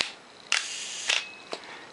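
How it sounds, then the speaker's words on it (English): A Pentax K film camera's shutter fires at slow speeds, giving three crisp mechanical clicks about half a second apart in a quiet room, each sharp and close. "we're listening to these slow shutter speeds"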